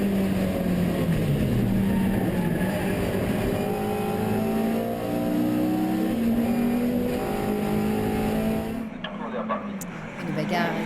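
Historic race cars lap the Ledenon circuit, with loud engines roaring and shifting pitch as they pass, under continuous commentary from a man, before the sound drops away near the end.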